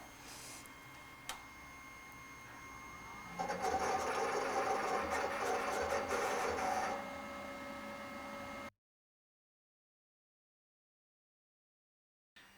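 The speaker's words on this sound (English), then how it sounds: "this computer controls the movements of a very sharp blade to cut out shapes and letters onto this thin sheet of vinyl" A computer-controlled vinyl cutter moves a sharp blade across a thin vinyl sheet, giving a steady mechanical whir with a louder stretch of busy ticking and humming in the middle, then stopping into silence.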